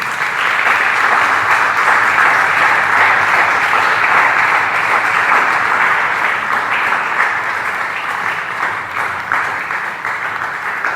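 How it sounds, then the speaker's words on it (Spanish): A church congregation claps loudly and continuously, a thick, even wash of applause sustained throughout with only slight fading toward the end. "Ríndale fuertes palmas al Rey."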